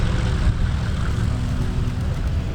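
A four-engine Lancaster bomber flying at an airshow, its piston engines and propellers giving a steady, loud, low droning rumble throughout with no speech.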